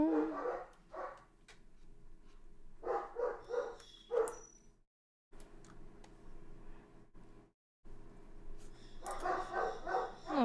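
Several angry pet dogs bark in repeated bursts, faint and somewhat distant, with clusters of yaps early on and again at the end, split by short gaps of near silence.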